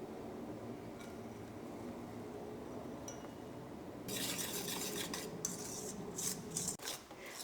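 Maida flour being whisked by hand into an egg batter in a bowl for Malabar mutta pola, a steady scraping, rasping stir throughout that grows brighter and louder in the second half, with utensil clinks against the bowl.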